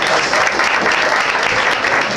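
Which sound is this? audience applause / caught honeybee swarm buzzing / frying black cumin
audience applause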